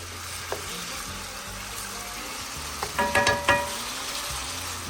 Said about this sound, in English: we're going to cook our lobster tail for about 2 minutes